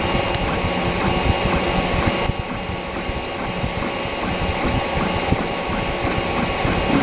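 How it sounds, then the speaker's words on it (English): 3D printer running a job in light blue filament, giving a steady whirring mechanical drone with faint ticking stepper movements throughout, fairly close and with no talk. "So with this currently nearly finished with the printing."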